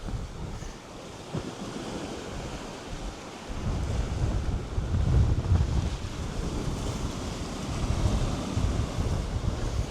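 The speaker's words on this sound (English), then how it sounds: "we're getting a lot more wind and a lot more water, a lot more waves coming through" Wind and surf at a secluded beach on the north side of Skiathos, waves washing in steadily with gusty wind buffeting the microphone, louder swells rising midway.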